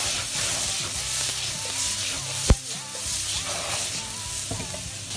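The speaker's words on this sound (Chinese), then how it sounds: "大火翻炒" Asparagus and shrimp stir-fried over high heat in a hot wok with oil, ginger, garlic and red chili, a steady loud sizzle with scraping stirs and one sharp clack of the utensil midway.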